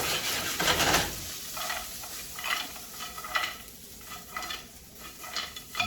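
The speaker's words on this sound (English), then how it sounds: "You can hear those vegetables are absolutely frozen solid." Frozen vegetables sautéing in a heavy commercial-grade Calphalon pan over a charcoal grill: a loud sizzling burst at first, then steady crackling sizzle with scraping stirs of a utensil against the pan, close by.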